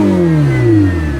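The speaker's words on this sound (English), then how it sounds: "Is that as much as it's letting you rev it?" A Ferrari 488 engine revs loudly up close, its pitch sweeping steadily lower as the revs fall away over a second or so, with no voices.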